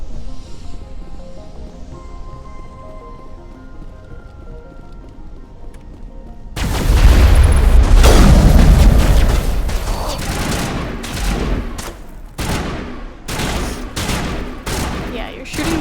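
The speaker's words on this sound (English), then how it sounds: "Yeah, you're shooting the wall there" Rapid volleys of gunfire in the video game Mass Effect erupt suddenly after a quiet stretch of music, loud and dense at first, then breaking into sharp repeated bursts with short gaps.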